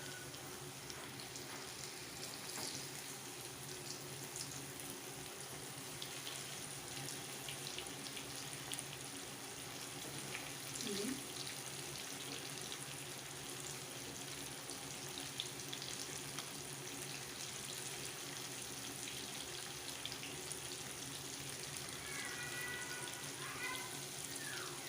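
Fish fries in hot oil, a faint steady crackling sizzle that carries on evenly throughout with no talking.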